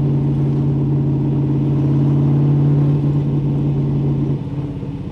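A 1963 Corvette Split Window Sting Ray engine held at high revs, giving a loud, steady droning tone close by. Near the end it drops and settles to a lower, rougher note.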